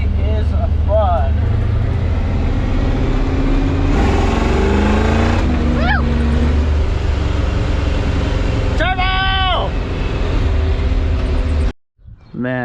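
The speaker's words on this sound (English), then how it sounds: "Taking it to the streets. This thing is so much fun. It's just a big old truck." A 1975 Chevy K10 4x4 truck drives on the street with a steady low engine drone and occasional revving rises, heard from inside the cab and ending in a brief cutoff near the end.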